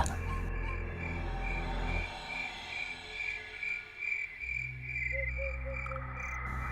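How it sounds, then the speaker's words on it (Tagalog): Steady pulsing chirps of crickets fill the background at moderate volume, with a low rumbling hum beneath and a few brief higher calls. "nag-uumpisa na rin noong tumunog ang mga kuliglig sa paligid."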